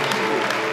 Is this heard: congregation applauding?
yes